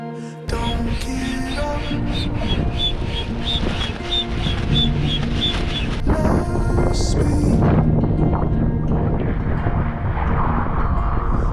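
Wind gusts and buffets the microphone aboard a sailboat off Malaysia, a steady, rough broadband rush with faint tonal whines mixed in throughout.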